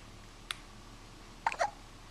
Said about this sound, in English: Hiccuping away.